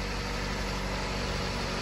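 A car that had a dead battery idles steadily after being jump-started, with a continuous low engine hum and rumble and no voices.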